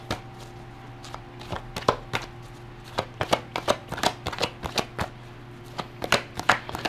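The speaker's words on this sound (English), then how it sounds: "Let's get another card." Tarot cards being shuffled and drawn for a reading, a steady run of crisp, close card snaps and flicks repeating irregularly over several seconds, with a low constant hum underneath and no talking.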